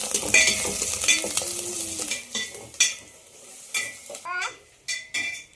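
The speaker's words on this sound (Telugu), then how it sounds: "బాగా అల్లం వెల్లుల్లి పేస్ట్ కూడా వేసేసుకొని పచ్చివాసన పోయేంత వరకు బాగా ఫ్రై చేసుకున్నాం" A chicken curry fries with ginger-garlic paste in a pan. Close, irregular scrapes and clinks of a spoon against metal break through a steady sizzle, with several sharper knocks toward the end and no talking.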